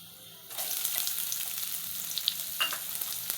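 Garlic and onion fry in a pan, a steady bright sizzle jumping up at half a second and holding with small crackles and pops, close and continuous with no voices.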